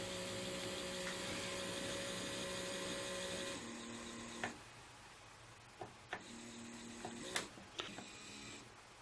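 A Walthers N scale model railroad turntable hums steadily as it rotates, a quiet, continuous motor whine that stops partway through, leaving a few soft clicks and ticks.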